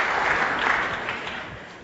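Dense audience applause fills a business talk on employee rewards, a steady wash of many hands clapping at once, fairly loud and even throughout with no voices on top.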